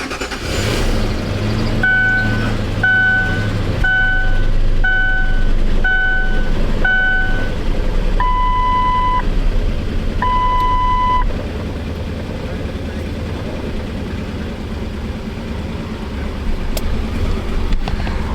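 A Lincoln LS, on fresh fuel with injector cleaner and suspected bad gas, sounds a repeated chime pattern while the engine turns over and then keeps running with a rough, uneven idle, heard close.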